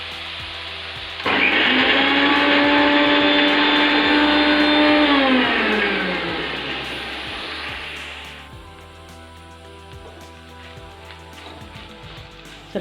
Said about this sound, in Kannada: ಇದು ಗ್ರೈಂಡ್ರ್ ಮಾಡ್ಕೊತೀನಿ.